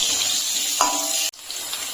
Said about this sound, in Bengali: আলুটা আমি লাল লাল করে মেরে নেব